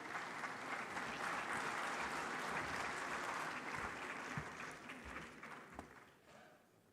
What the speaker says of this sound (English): a resounding round of applause for the representative of the President of Comoros